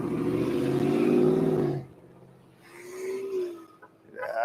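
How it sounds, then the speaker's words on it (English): A car full of supporters passes a protest outside a Scientology building, its engine roaring loudly up close before fading away. A honk and a faint rising note follow, with no clear voices heard. "there's no way, even with the window shut, that they're not hearing this hooting and hollering and honks for Dusty and Erica's out there."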